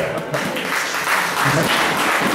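A congregation claps during a Sunday church service, a moderately loud, sustained patter of many hands with a few voices mixed in.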